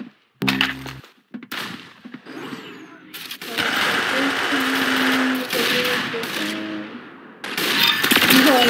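Sniper gunfire in the video game Arsenal, with sharp shots and bursts of in-game combat noise spread across the clip and a steady background layer, while a player talks at times.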